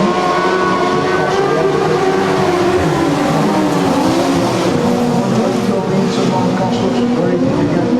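Speedway sidecar motorcycles roar along the back straight in a loud, continuous blur of engine noise, heard from trackside under a race commentator's voice.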